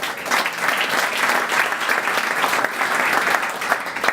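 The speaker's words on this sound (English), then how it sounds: "Give another round of applause." Audience at a tribute to mayors breaks into sustained applause, a full room of clapping that swells and holds at an even, lively level without speech over it.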